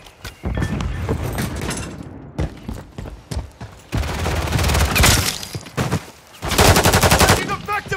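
Video game gunfire comes as dense, loud bursts of rapid automatic shots, broken by short gaps and resuming in long rattling volleys.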